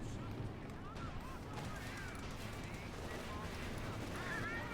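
Artillery shells and machine-gun fire in a Company of Heroes 2 World War II battle, with Panzer tanks on the move, heard as a dense, continuous rumble of explosions and rattling gunfire under game ambience.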